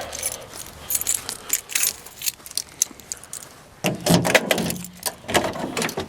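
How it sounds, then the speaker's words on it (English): A bunch of keys jingles in bursts of bright metallic clinks, louder toward the end, in a garage or shop near a dirty work truck and workbenches. "I do have the keys."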